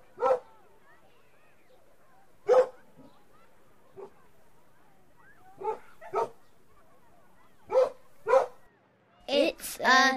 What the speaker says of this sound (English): It's a dog chasing a ball on the seashore